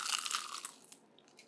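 A single loud, close crunch as someone bites into golden fried food, fading into a few softer chewing crackles.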